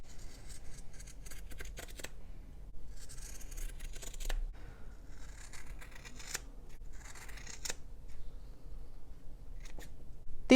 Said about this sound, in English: These are the Kai scissors we just tested